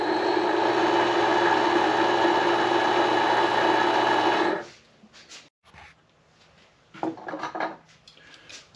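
Vevor MX400 mini lathe turning a metal part: a loud, steady motor whine with cutting noise runs for about four and a half seconds, then stops and gives way to quiet clinks and shuffling.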